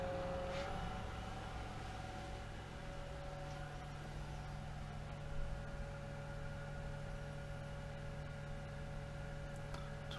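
Hayward Super Pump VS variable-speed pool pump on 1.5-inch plumbing, running at 1250 RPM: a steady, even motor hum with a faint electrical whine, constant and unbroken throughout with no voices.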